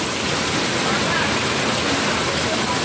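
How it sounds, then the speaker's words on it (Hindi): Rainwater pouring steadily into a bucket during a downpour, a dense, continuous hiss and splash that stays loud and even throughout with no distinct breaks. "मुस्कान तो पानी इकट्ठा कर रही है बाल्टी में।"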